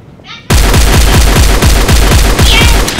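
Loud, close automatic gunfire in Garry's Mod, a steady rapid stream of about a dozen evenly spaced shots after a brief quiet lead-in, the weapon firing continuously through the whole stretch.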